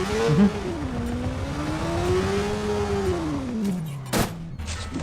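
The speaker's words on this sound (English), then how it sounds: "There's a motorcycle, and they are just so superior." Motorcycle engine in the video game Watch Dogs, a steady droning note that rises and falls in pitch as the bike throttles along, with a brief sharp burst near the end and no talking.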